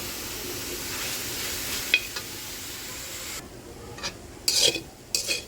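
Kanai shak leaves are stirred and dry-roasted in a pan, giving a steady scraping, rustling texture with a few sharper clinks of the utensil against the pan near the end.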